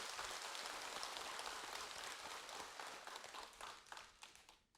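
Applause from the assembled congregation at Jogyesa, a Buddhist temple, after a dharma talk marking the end of the summer retreat. Dense, steady clapping from a crowd, fading out toward the end.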